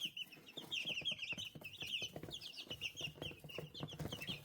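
A small backyard flock of young chickens clucks and chirps close by, with busy overlapping peeps and soft clucks in a steady chatter and light scratching or pecking taps underneath, all fairly quiet.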